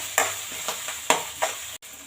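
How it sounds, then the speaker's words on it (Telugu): Fish roe frying with coriander in a pan, a steady sizzle broken by four scraping stirs of a spoon in quick succession, close and fairly loud with no talk. "ఇందులో వేసి బాగా వేపండి. బ్రౌన్ కలర్ వచ్చేదాకా బాగా వేపాలండి."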